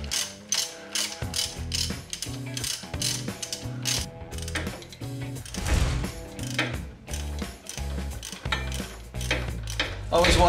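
A ratchet wrench backs a 5/16 bolt out of a Shovelhead transmission being removed from the frame, giving rapid, repeated close-up clicking in short bursts with brief pauses between strokes.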